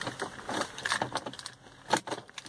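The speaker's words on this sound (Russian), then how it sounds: "беру ключик" The keys to a BMW E39 jangle faintly up close in a garage, making a scatter of light metallic clinks and rattles with a brighter clink near the end.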